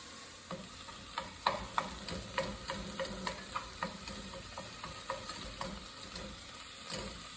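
Onions and potato frying in a pan, with a steady sizzle under repeated sharp scrapes and taps of a utensil stirring the pan.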